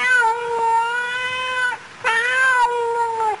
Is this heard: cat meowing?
yes